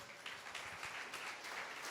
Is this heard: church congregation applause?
yes